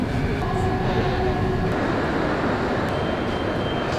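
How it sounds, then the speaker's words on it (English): Vancouver SkyTrain bound for YVR Airport, a steady close rumble of the car rolling along the track with a constant hum, continuous and fairly loud, with no talk. "This train is for YVR Airport."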